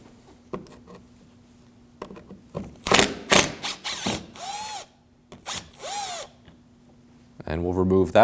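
Power drill backing out the Phillips screws on either side of a license plate bracket on a 2016-2022 Honda Pilot front bumper: several short, loud whirring bursts with brief pauses between them, ending in a sustained, rising spin.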